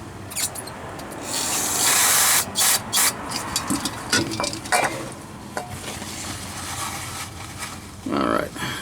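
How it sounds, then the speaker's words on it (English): Brake cleaner hisses from an aerosol can in short and longer bursts onto parts of a 1969 Ford F-250, close and loud, with a voice talking in between sprays. "A little bit of a brake cleaner should do the trick."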